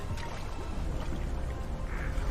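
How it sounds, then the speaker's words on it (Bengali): Oars pull a wooden boat along a river in steady, unbroken rain, with a dense, continuous wash of water and rain noise filling the whole stretch and no voices. "এক মনে নৌকার দাঁড় বেয়ে চলেছে।"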